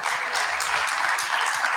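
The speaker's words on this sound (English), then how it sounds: "Clap for 2 of them." Conference audience applause at a healthcare conference in Ethiopia, a brief burst of many hands clapping together, steady and fairly full throughout.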